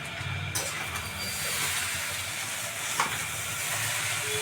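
Chow mein with vegetables, green chilli and onion hisses and sizzles steadily in a hot pan while being stirred, a continuous close frying rush with occasional scrape accents.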